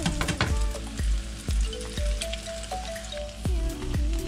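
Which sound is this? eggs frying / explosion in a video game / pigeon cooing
eggs frying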